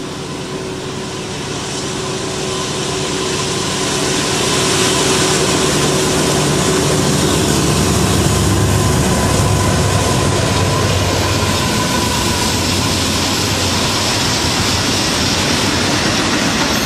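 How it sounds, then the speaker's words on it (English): Freight train locomotive engine 424 heading south through Folkston, a loud steady rumble and rolling roar that builds over the first few seconds and holds close throughout. "engine 424 south out."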